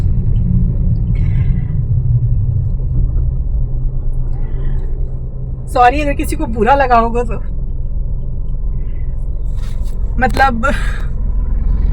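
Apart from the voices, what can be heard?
car interior rumble while driving and stopping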